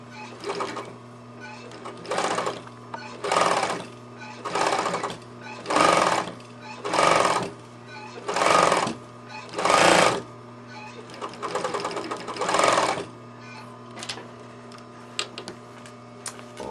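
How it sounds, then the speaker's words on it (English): A sewing machine stitches in the ditch along a welted pillow. Eight or so close, steady whirring runs of a few seconds each are separated by short pauses over a constant low hum, with no voices. "I'm just going to fold it over and stitch in the ditch"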